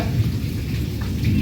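Rain falls outdoors in a steady, close hiss with a low rumbling undertone, continuous through the brief stretch with no voices.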